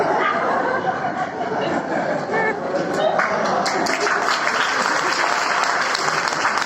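Applause from the audience at a Hindi comic poetry gathering, a dense, steady patter of many hands filling the whole stretch, with scattered chuckles and murmurs mixed in.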